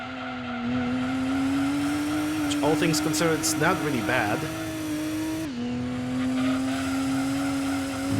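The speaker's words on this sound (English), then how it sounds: "right now this car is just already reaching the rev limiter" Racing-car engine in Gran Turismo 2 on PS1 held high against the rev limiter at about 281 km/h, a loud steady whine with a brief squealing stretch, while someone talks over it.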